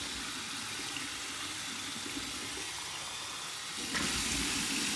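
Warm tap water runs steadily from a faucet for a shaving rinse, a continuous hiss that grows slightly louder near the end, with no talking.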